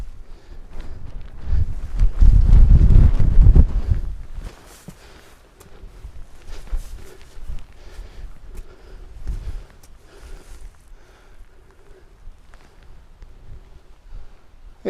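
Strong wind gusting outdoors on a winter wild-camping trip, a loud buffeting roar in the first few seconds that eases into a steadier, lower blustery rush with scattered rustles and footstep-like scuffs.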